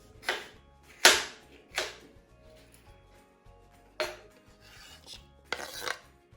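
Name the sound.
knife cutting red pepper and red onion into chunks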